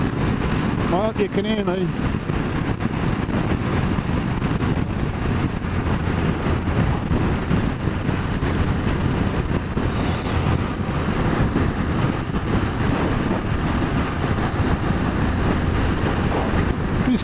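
A BMW F750GS motorcycle engine while riding in fifth gear, a steady roar buried in heavy wind buffeting, with the rider talking over it throughout.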